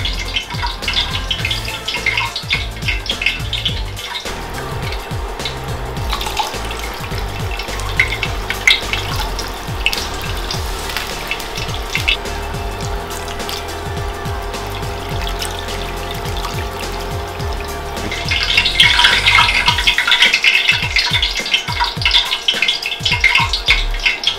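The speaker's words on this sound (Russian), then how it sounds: "Ставим решетку, банку и горячим маслом поливаем тортилью до тех пор, пока не получится аппетитная золотистая корочка" Hot oil is poured over a tortilla resting on a rack over a can. A continuous loud sizzle and splashing frying noise grows brighter and stronger toward the end, with no talking.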